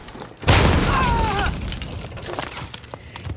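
A single loud grenade blast erupts sharply near the start of a video game execution, then fades into a ringing, crackling tail with scattered smaller noises.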